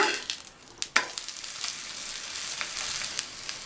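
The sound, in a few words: moong dal roti frying in oil on a pan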